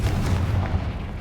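A Confringo explosion spell in Hogwarts Legacy, a heavy low booming blast that rumbles and fades within about a second, loud and close with no voices.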